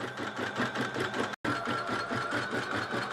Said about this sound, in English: it's going to take almost 3 hours for it to stitch out these 4 designs